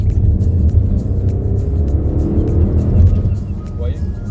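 An Audi RS7 gives off a deep, steady engine rumble throughout, loud and close, with a faint rise in intensity but no sharp rev spikes.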